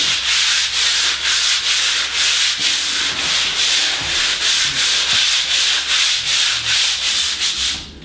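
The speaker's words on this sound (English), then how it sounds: "It's amazing how much just a light rub down can actually smooth it off when it can feel so rough." A lacquer finish is hand sanded with 150 grit sandpaper in close, rhythmic back-and-forth strokes, a dry steady rasping repeated at an even pace throughout, with no talking.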